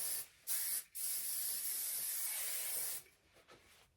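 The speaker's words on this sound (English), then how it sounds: "you're gonna take some hairspray and you're gonna scrunch it" Hairspray hisses from a can onto hair in two short puffs followed by one long steady spray, close and fairly quiet, with faint rustling afterward.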